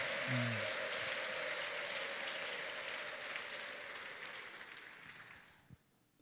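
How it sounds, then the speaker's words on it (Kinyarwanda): Church congregation applauding and ululating at a festive Easter service, a dense, steady wash of clapping with high trilled cries near the start, fading out at the end. "duhe Yesu amashyi dushyiremo n'impundu"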